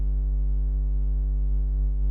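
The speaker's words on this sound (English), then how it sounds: "just a standard triangle wave" A synthesizer playing a plain triangle wave with no distortion: one sustained, loud, steady low note with soft upper harmonics, alone and unchanging.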